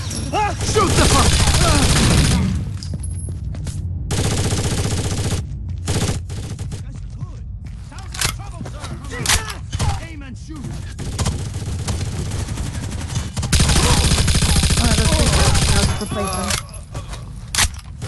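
Gunfire in the video game Rainbow Six Vegas 2, set in a train station, comes in loud dense bursts and rapid volleys with brief pauses, while voices shout over the shooting.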